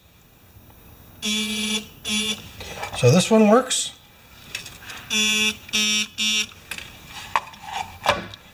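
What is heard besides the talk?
electric buzzers sounding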